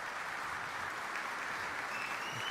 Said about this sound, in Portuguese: Uma salva de palmas para essas mulheres maravilhosas.